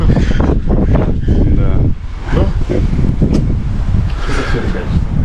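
Strong wind buffets the microphone on a hilltop, a loud, rough, gusting roar that continues throughout, with people's voices partly heard beneath it.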